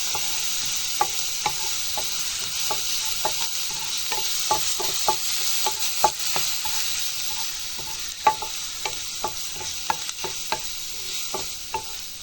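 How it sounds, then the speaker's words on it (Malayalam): Ginger garlic paste sautés in a pan for a chicken dish, a steady sizzle under repeated light taps and scrapes of a stirring spoon, with no voices. "അതിൻ്റെ ഒരു പച്ച മണം ഒന്ന് മാറുന്ന വരെ നമുക്കൊന്ന് ചെറുങ്ങനെ ഒന്ന് വഴറ്റിയെടുക്കേണ്ടതാണ്."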